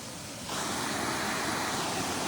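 Muddy rainwater from heavy rain surges through an overflowing drain in Bilaspur, a dense continuous roar that swells in sharply after half a second and stays loud and steady with no voices.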